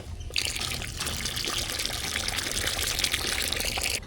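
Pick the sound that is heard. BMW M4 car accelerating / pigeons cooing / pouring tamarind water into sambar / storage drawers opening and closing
pouring tamarind water into sambar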